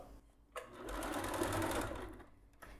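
A sewing machine stitches a beach towel trimmed with pompoms in one continuous burst of fast, even whirring that starts after a soft thump and stops near the end, close by with no talking.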